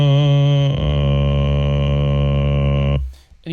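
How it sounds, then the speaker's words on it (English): Singer producing a low strobass undertone in vocal fry, a sustained buzzing drone that drops into a lower subharmonic partway through, holding for about three seconds before cutting off. "I've got some recordings of the strobas kind of sound."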